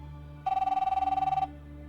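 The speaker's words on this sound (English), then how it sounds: "continue conversation with Ophelia, you hear her phone go off" A telephone rings once in a quick trilling burst lasting about a second, clear and fairly close, then stops over a quiet background hum.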